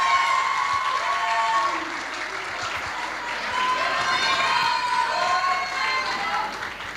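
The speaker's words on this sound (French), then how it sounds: "Veuillez accueillir sous les applaudissements chaleureux nos élèves" Warm applause from a school debate audience welcoming students, loud and sustained for about seven seconds, with a few voices and cheers mixed into the dense clapping.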